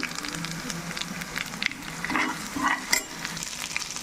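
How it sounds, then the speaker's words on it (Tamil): Pirandai (adamant creeper) sautéing in oil in a pan, a soft continuous sizzle under repeated scraping stirs of a spoon, with a few sharper clinks, near and moderately quiet. "இந்த மாதிரி வதங்கிட்டு இருக்கும்போது தேவையான அளவுக்கு நம்ம உப்பு போட்டுக்கலாம்"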